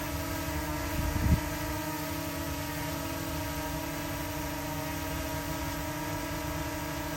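From the side, a hovering DJI Mini 2 drone with Master Airscrew Stealth propellers gives a continuous tonal whir and hum. A short low thump sounds early on, then the whine carries on steady with no voices.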